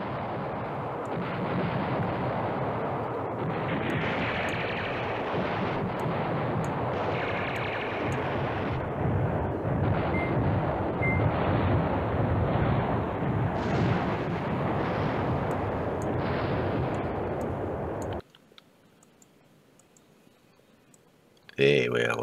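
Artillery bombing in the strategy game Command Ops 2: a dense, steady crackle of bursts and rumbling explosions runs for about eighteen seconds, then cuts out to near silence.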